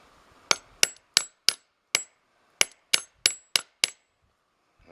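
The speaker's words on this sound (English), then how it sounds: "All you do is you take your spile, just tap it in snug." Eleven crisp, sharp taps in quick succession drive a metal spile snugly into a maple tree trunk, each strike ringing briefly, with a short pause midway and no talking.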